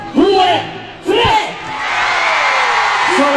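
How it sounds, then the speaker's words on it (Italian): A large outdoor concert crowd in a town piazza roars, whooping, yelling and clapping together in a loud, sustained wave after a short shouted count from the stage. "Al mio tre voglio sentire l'applauso e l'urlo di tutta Piazza in Gastone."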